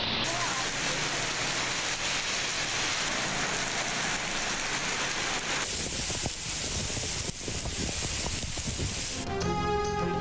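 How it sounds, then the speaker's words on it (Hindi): Steady rain pours down in Lahore, a dense continuous hiss of drops on surfaces, loud and close throughout, with a brief tonal news jingle at the very end. "लाहौर में वक्फे से बादल बरसने का सिलसिला जारी"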